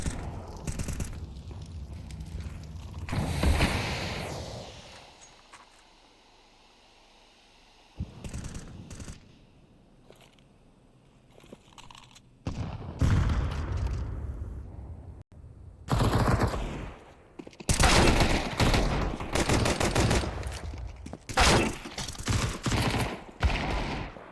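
Gunfire from a Counter-Strike match in an ESL Challenger League esports game, heard as several loud bursts of rapid shots separated by quieter gaps.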